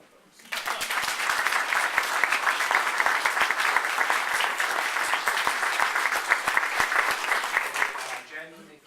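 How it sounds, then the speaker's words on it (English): An audience bursts into sustained, even applause that holds steady for about seven seconds before tapering off, with a voice starting to speak as it fades. "I'm going to actually embarrass them by asking all of you to give them a round of applause."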